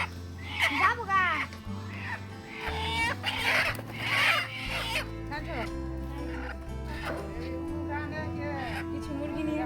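Chickens on a farm cluck and call in short, loose bursts, close by, over a low steady hum, with some faint voices mixed in.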